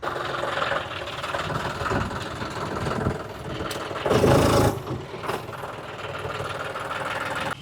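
A John Deere 5310 tractor idles close by, its steady diesel chug running continuously with a brief louder surge midway, and no voices.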